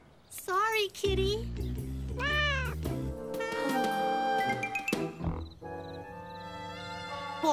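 A cartoon cat lets out several loud, drawn-out meows with rising and falling pitch, followed by further vocal and musical sounds from the animated show.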